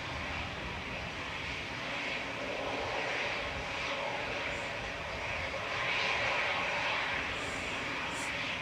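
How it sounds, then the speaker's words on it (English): An Air Canada airliner departing runway 23 right at Manchester Airport sends out a faint, distant broadband jet roar that swells slightly and stays steady throughout. "Air Canada now crossing 23 right for departure"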